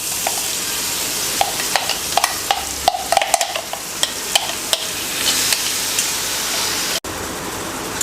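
Mixed vegetables fry in melted butter for an instant breakfast dish, giving a loud, dense, continuous sizzle with scattered clicks of a stirring spoon against the pan.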